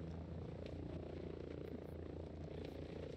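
Video game helicopter drones steadily with a low rotor thrum and engine hum, loud and continuous, with no speech over it.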